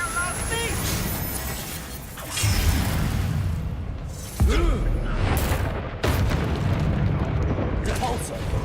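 Confringo explosion spells from Hogwarts Legacy detonate in three heavy booming blasts, each with a rushing whoosh and a rumbling tail, while voices talk between the explosions.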